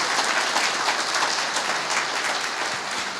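A church congregation claps steadily for about three seconds, a dense, even patter that fills the room at a constant level with no voices standing out.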